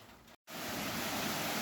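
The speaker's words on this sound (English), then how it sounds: "as you all can hear, we got a lot of rain going on right now" Heavy rain pours outdoors on a homestead as a dense, steady hiss that fills the space, loud and continuous after a brief silent break near the start.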